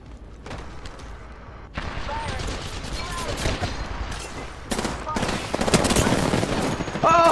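Gunfire in the video game Apex Legends: scattered single shots and then denser bursts that grow louder toward the end, under a player's excited voice.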